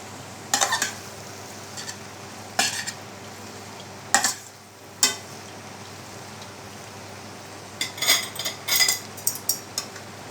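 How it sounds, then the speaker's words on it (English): Chicken chowmein ingredients tossed with a spatula in a pan, scattered scrapes and metallic clinks in short bursts over a faint background hiss, no talking. "And then we are going to mix everything together."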